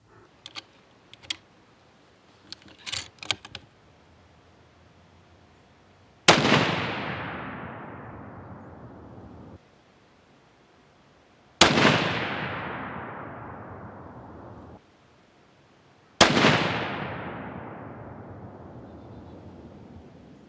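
Three loud, sharp rifle shots from a 7x57 at an outdoor shooting range, each a sudden blast trailing into a long rolling echo, spaced several seconds apart after a few faint clicks and handling noises.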